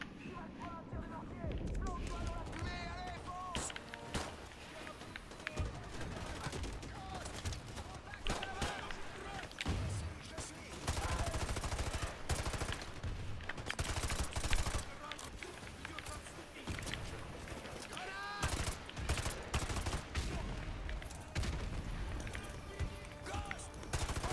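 Rapid gunfire rings out in many directions during an attack on a forest house in a shooting game, dense bursts of shots running almost continuously over busy game noise, with a voice talking throughout.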